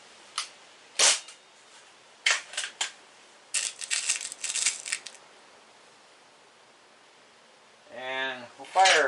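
A Stoeger X3 Tac air rifle fires a few shots into a box, producing sharp, close cracks spaced a second or so apart, followed by a short burst of buzzing noise and a final loud snap.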